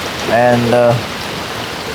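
Summer rain falls by an outdoor pool as a steady broadband patter, with a voice speaking briefly over it near the start.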